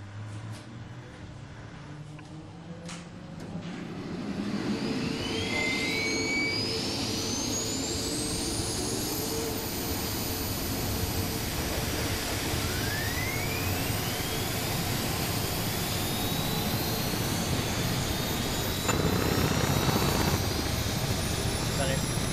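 Military helicopter engines spooling up for lift in a video game, a rising turbine whine with climbing pitch sweeps over a loud steady rotor roar, with radio voices talking over it.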